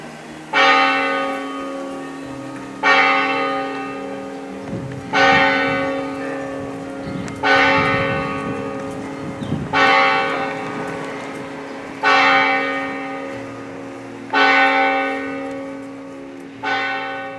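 Church bells in Estella ring at noon with a deep, sustained clang, six loud strikes spaced about two seconds apart, each ringing out and decaying over a steady hum, with no voices.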